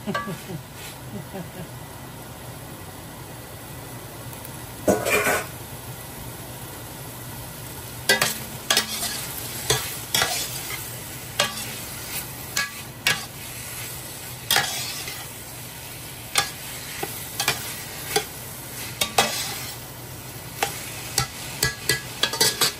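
Chorizo for pork pochero sizzles in a pan as it is stirred, with a continuous frying hiss and frequent clattering scrapes of the spoon against the pan, close up, with no talking.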